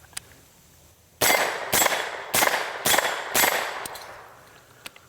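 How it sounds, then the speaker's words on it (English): A CMMG Mk17 rifle fires five sharp, loud shots in quick succession, evenly spaced about half a second apart, with faint ambient noise before and after. "So follow-up shots on this thing is really quick because you don't get a lot of jump out of it"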